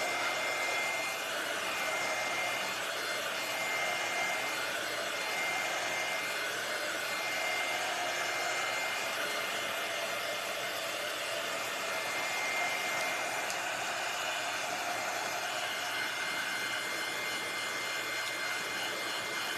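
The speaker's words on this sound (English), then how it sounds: "I like this heat tool because it's giving it this nice color on the edge" A handheld heat tool blows hot air steadily onto a handmade primitive craft star, a constant close whooshing roar that holds level throughout with no talking.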